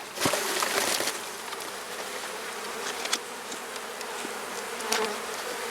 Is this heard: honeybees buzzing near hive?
yes